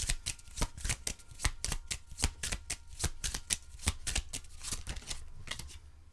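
Oracle cards being shuffled by hand, a steady rhythm of crisp riffling snaps about every third of a second, close and fairly quiet, with no talking.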